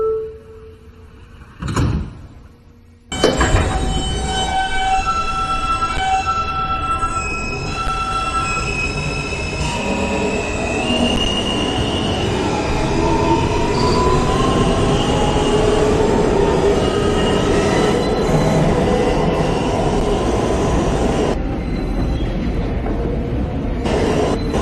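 A Manhattan-bound New York subway M train pulls out of a station: a door thump, then a loud building rumble of the car with wheels squealing in long, high tones, heard from inside the train.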